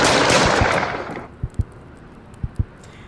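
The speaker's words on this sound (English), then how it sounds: "Another shooting?" Gunfire in a video game: a close, rapid burst of automatic shots fades out. It is followed by two pairs of sharp single shots.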